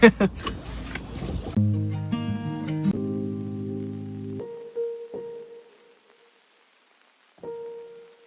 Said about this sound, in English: Sorry, I have to park my car over here. I don't know if you hear it beeping at me.